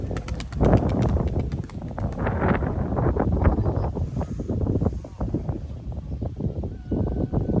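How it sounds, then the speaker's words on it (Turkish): Gusty wind buffets the microphone with low, rumbling blasts that rise and fall continuously, loud and close. "Yani şu ağaçtan gördüğünüz gibi biraz rüzgar var."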